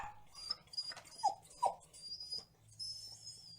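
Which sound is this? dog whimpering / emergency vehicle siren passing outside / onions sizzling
dog whimpering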